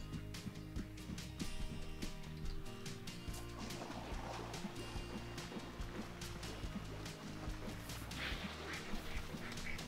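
Ducks in the video game Hunt Showdown quacking over a watery backdrop with sloshing, repeated calls scattered across a steady ambient bed, moderately loud and without speech.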